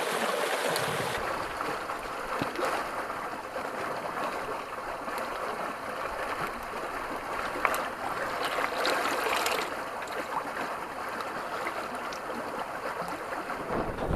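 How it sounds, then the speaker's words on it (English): Steady rushing and babbling of a creek flowing nearby in Capitol Reef, continuous and fairly loud throughout with no talking. "I just crossed the creek."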